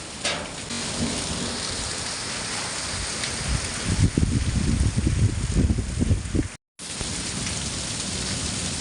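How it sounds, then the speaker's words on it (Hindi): Heavy monsoon downpour over a hill village in Pithoragarh, Uttarakhand, a loud, steady roar of rain on surfaces with low rumbling thunder swelling midway, nearby and continuous. "देखते ही देखते ये बरसात में जैसी बारिश होती है, नदी नाले वाली बारिश हो गई है"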